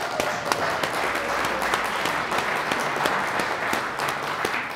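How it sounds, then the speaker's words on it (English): Audience applause for the musicians at an evening song event, a steady, even wash of many hands clapping throughout with no gaps. "Can we have another round of applause for our musicians?"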